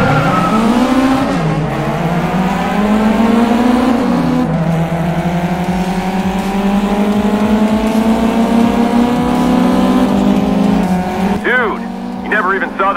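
Race car engine in the video game GT Racing 2, a loud steady roar that climbs in pitch through the gears, with a brief squeal near the end.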